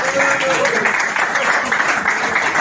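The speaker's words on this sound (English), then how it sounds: "Let's have a big round of applause for all of our keynote speakers." Loud, sustained applause from a conference audience honoring keynote speakers at an aerosol arts gathering, close and dense clapping with a voice or cheer blended into the mix.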